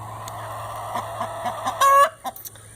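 Chickens cluck in short, scattered bursts nearby, one louder squawk standing out, over a low steady background hum.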